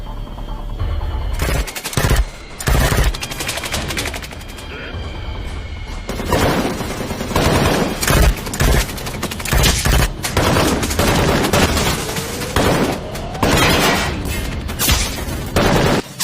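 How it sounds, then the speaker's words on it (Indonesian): Gunfire crackles through an anime shootout between attackers and soldiers: loud, dense machine-gun bursts and single shots with heavy booms and crashes, continuing almost without pause and leaving little room for any voices. "melakukan serangan secara terang-terangan yang membuat mereka harus baku tembak dengan tentara di sana"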